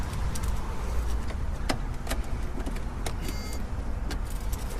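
A truck engine idles with a steady low rumble, interrupted by a few sharp clicks and rattles close by, with no talking over it.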